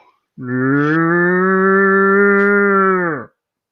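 A person imitates a goat with one long, loud, sustained bleating call of about three seconds, alone with no other sound.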